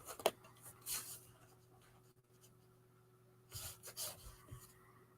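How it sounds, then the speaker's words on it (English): Pencil crayon dragged across craft paper during a drawing session, giving soft, intermittent scratchy rubbing strokes in short bursts with quiet pauses between, close and faint. "It's still a craft paper you're drawing on top of"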